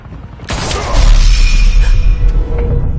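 A gunshot in the Batman Telltale Series video game, one loud sharp blast that breaks in suddenly and rings out, with a heavy low rumble trailing away over the next couple of seconds.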